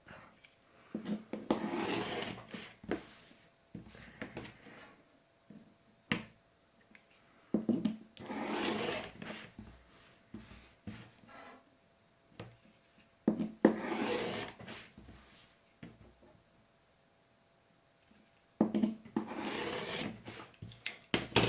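Felt fabric edges are cut along a metal ruler, giving several rasping, scraping strokes in separate bursts with quiet gaps between them, close and moderate in level.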